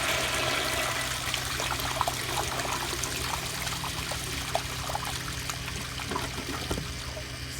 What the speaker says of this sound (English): let's do a flush like this